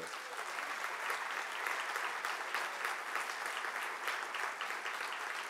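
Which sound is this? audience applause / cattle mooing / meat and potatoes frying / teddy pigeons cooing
audience applause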